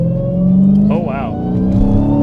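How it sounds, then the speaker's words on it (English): A 2019 Dodge Challenger Hellcat Redeye with a new intake accelerates inside the cabin, its deep engine drone steady and loud beneath a person's excited exclamation. "Dude, I put my foot on the gas."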